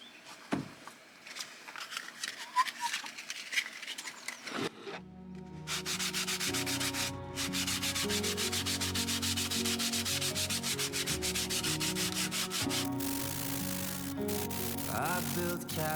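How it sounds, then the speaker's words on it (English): A wooden drawer front and door get a light sanding, with short rubbing strokes heard first before music takes over and masks the scraping. "Just give them a quick little sand, just to do one little bit and see what they turn out like"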